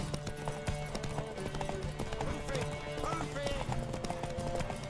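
Rhythmic hoofbeats of a horse clip-clopping steadily at a trot during a race in The Witcher 3: Wild Hunt, with a brief whinny and scattered game sounds in the background.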